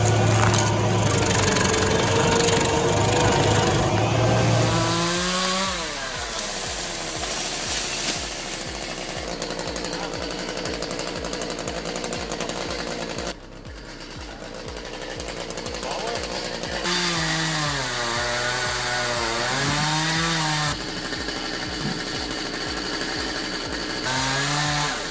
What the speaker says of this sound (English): combine it with 85 horsepower of Rayco RG80 muscle and a revolution wheel, then let it work for 10 minutes